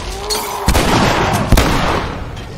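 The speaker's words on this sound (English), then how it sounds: "Shotgun." Shotgun blasts in The Last of Us, two sharp, heavy booms about a second apart, loud and close, each with a short ringing tail over background game ambience.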